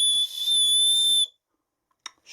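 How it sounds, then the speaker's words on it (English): A small plastic whistle attached to a tactical kit bag blown close up in two shrill, piercing blasts with a brief break between them, followed by a faint click. "this has got a little whistle on it"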